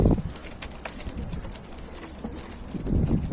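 Low cooing of domestic pigeons murmurs close by during a morning feeding, with soft rustling and fluttering in between and no voices.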